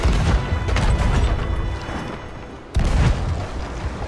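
Cannon fire from an enemy ship strikes the player's ship in the pirate game Sea of Thieves: a dense, loud barrage of booms and crashing impacts, with a sharp fresh blast near the end.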